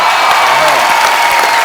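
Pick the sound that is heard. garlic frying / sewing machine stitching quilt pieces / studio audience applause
studio audience applause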